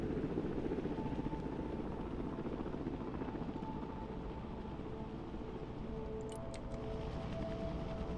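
Helicopter rotors in the military strategy game Broken Arrow, a steady continuous thrum with engine drone holding at an even loudness throughout, with brief higher-pitched game sounds near the end.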